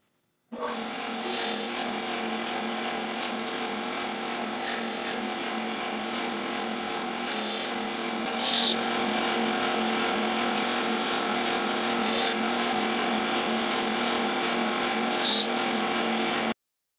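A power tool cuts small padauk and maple wood segments for a miniature segmented disc, a steady whining, rasping grind that runs continuously, close and loud, with faint higher chirps along the way.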